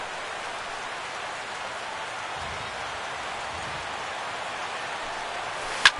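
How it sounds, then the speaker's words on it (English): Steady rain falls at a ballpark in MLB The Show 16, a constant soft hiss of moderate loudness that runs unbroken, ending with a brief sharp click. "The rain, as we've mentioned, coming down fairly steadily here at game time."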